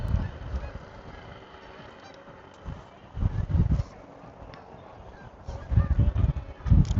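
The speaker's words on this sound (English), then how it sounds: "Got the geese flying above." Geese honk while flying overhead during a golf tournament, in bursts of loud nasal calls that come and go, with soft background noise and no clear speech.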